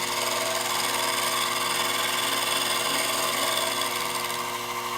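A milling machine cuts a wooden main mast head at about 1.5 millimetre depth, giving a steady, loud, unbroken whine with a bright, grinding edge and no talking.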